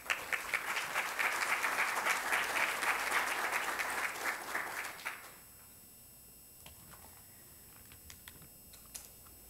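A strong round of applause from a seminar audience in an auditorium, honoring jurist Felipe Osterling, dense clapping for about five seconds that then cuts off, leaving a quiet room with a few faint scattered sounds.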